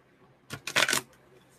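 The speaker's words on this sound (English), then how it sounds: "Okay, one more shuffle" An oracle card deck gets one quick, close shuffle, a brief flurry of crisp card flicks lasting about half a second against near silence.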